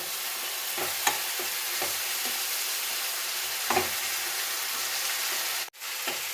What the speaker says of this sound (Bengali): চিনিটা দেওয়ার পর আবার ভালো করে একটু নেড়ে নিচ্ছি